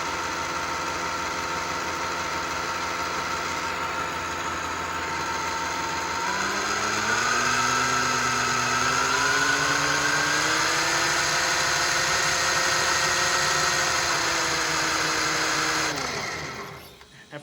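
A prototype motor spinning on a dyno under throttle, producing a loud continuous electric whine whose pitch climbs as throttle increases, holds steady at high speed, then drops as it spins down at the end, close and without talk.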